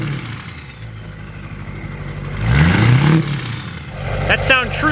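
An LB7 Duramax diesel truck engine fitted with a DURTYMAX Stealth 64 tuner idles with a low rumble, then revs up in a rising swell before settling back, close and fairly loud.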